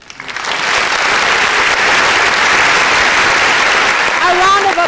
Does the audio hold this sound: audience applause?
yes